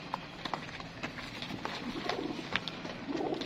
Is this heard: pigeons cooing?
yes